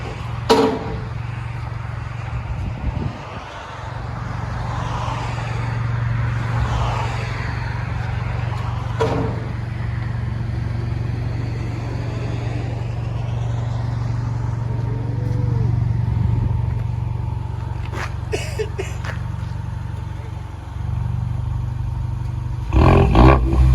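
Ford Mustang EcoBoost turbo with its resonator cut off, reversing at low speed: a steady, deep exhaust rumble with light mechanical clatter, continuous and close, with a slight swell midway.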